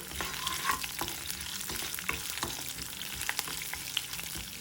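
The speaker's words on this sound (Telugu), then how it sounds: "ఇప్పుడు మొత్తం వేగనివ్వాలి." Mustard seeds, cumin, urad dal and torn dried red chillies crackle and sizzle in hot oil as a tempering for potato karam, a steady close frying hiss with scattered sharp pops throughout.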